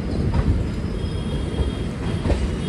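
A train rumbles steadily across the Yamuna bridge near Agra Fort, a continuous heavy roll of wheels on rail with faint rhythmic clatter and a hint of squeal, close and sustained throughout with no talk.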